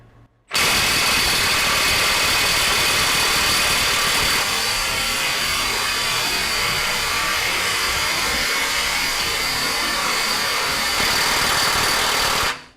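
A Milwaukee 2967 M18 FUEL high-torque impact wrench hammers on a 2,400 foot-pound fastener with a loud, continuous buzzing rattle that runs unbroken for about twelve seconds, close up and with no speech.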